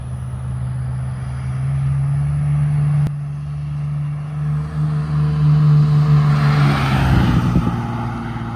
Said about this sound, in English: I would thought it would be more louder because it's a way bigger exhaust